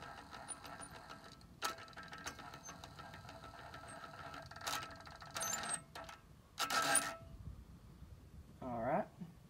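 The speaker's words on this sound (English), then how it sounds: "hopefully you can hear the VGT cycle" On a Cummins 6.7L VGT turbo, a newly fitted actuator cycles during calibration, making scattered whirring and ratcheting bursts with short mechanical buzzes of varying length over a quiet background hum, heard close up.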